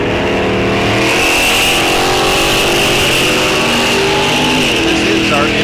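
Drag racing cars at Rock Falls Raceway during a bracket series race, with a loud, sustained engine roar and revving that stays close and dense throughout as the cars launch, while an announcer speaks over the noise.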